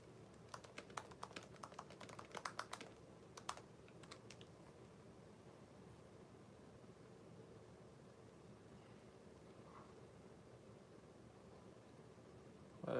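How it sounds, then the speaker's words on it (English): Typing on a computer keyboard, a quick run of soft key clicks in the opening seconds followed by a few isolated taps, then near-silent room hiss for the rest, faint and close. "I'll type something."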